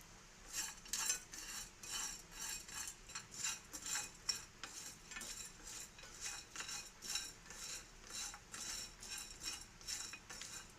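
Cumin, a bay leaf, cloves, cardamom, cinnamon and about ten cashews stirred and clinking in a pan as they roast, with steady, close metallic scraping of a spoon over a soft sizzle and no talk.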